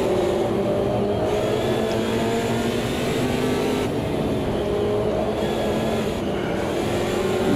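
Race car engine in Automobilista 2, sustained loud and steady, rear wheels spinning with a continuous roaring drone and no talk over it.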